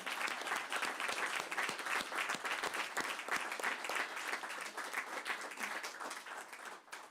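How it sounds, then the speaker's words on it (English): A crowd at a school board meeting claps together in a room, fairly close. The bright, crackling applause holds steady with individual claps standing out, then tapers off at the very end. "before we give him a big round of applause"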